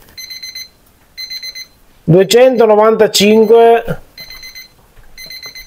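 Kitchen timer alarm beeping in short repeated bursts, loud and close, before and after a stretch of Italian speech while a new Saputo biscuit is being baked.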